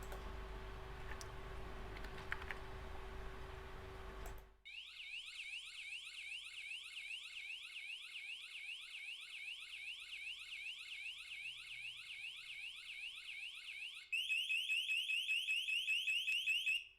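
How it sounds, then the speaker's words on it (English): A Philio siren triggered through a Vera controller cuts in after a few seconds of room noise, wailing in a rapid repeating up-down police pattern, then switches to a faster, louder yelp near the end. "Police sound."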